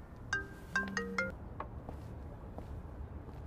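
A phone ringtone plays three short, bright chiming bursts near the start, then fades out into quiet room tone.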